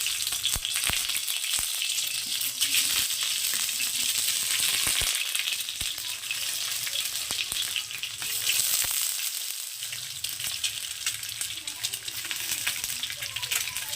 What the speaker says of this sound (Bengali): তেলটা গরম হয়ে গেছে এবার তেলের মধ্যে আমি ডিমগুলোকে এক এক করে দিয়ে দেবো